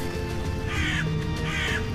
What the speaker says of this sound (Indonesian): Seketika burung itu terbakar, berteriak kesakitan.